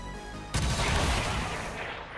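A weapon shot in the XCOM 2 strategy game: a sudden loud broadband burst after a half-second of quiet, trailing into a sustained rumbling, crackling tail of impact and debris.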